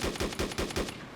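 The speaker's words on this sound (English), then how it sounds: "I'll shoot out some bullets" Rapid M16 rifle fire in the DayZ Mod video game: five sharp shots in quick, even succession over about a second, then a short fading tail.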